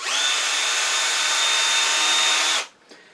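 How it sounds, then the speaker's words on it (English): A small 1/16 inch drill bit whines steadily at high pitch for a few seconds, boring a starter hole in wood on a lathe, then winds down and stops, followed by a faint tap. "come back with a 1/16 inch drill bit"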